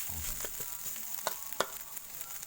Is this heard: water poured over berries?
no